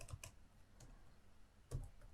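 A few soft clicks of typing on a computer keyboard while text is entered in Canva, quiet and close. The taps come in small clusters with short pauses between them, and no one speaks.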